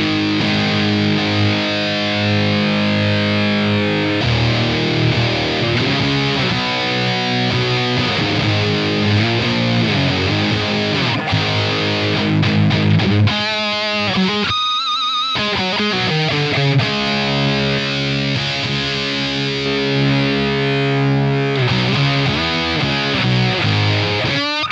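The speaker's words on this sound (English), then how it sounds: "Let me just grab the distortion for one." An electric guitar plays through a hard-clipping distortion pedal at its very high-gain ultra setting, giving a dense, saturated, sustained tone with shifting chords and a short choppy break midway.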